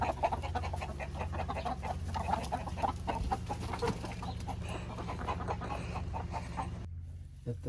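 Chickens cluck and murmur in a henhouse, a busy overlapping chorus of close, irregular clucks with occasional louder calls, continuing alone until a brief drop near the end.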